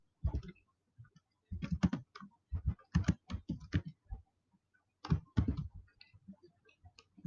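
Close keystrokes clatter on a computer keyboard while code is typed, in uneven bursts of quick clicks separated by short pauses, with no talking.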